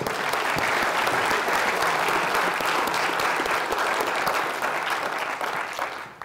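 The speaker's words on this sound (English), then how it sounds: "round of applause for those folks" Steady, dense applause from an audience at an Air Force base wing commander's call, loud and sustained throughout before tapering slightly at the end, with no talking over it.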